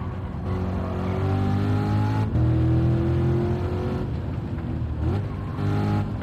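A race car engine in the Gran Turismo video game revs continuously at Laguna Seca, its loud, steady drone rising and falling in pitch as it accelerates and lifts through corners, with no talk.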